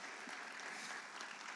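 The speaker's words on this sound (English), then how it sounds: "one more round of applause for Ron" An audience at a memorial lecture gives a round of applause for photographer Ron Tarver, a dense, even wash of clapping from a crowd that is fairly quiet and distant and holds steady throughout.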